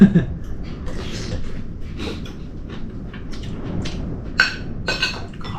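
Gusty wind with rain pattering steadily, a low rumbling backdrop and a few louder bursts, faint voices now and then.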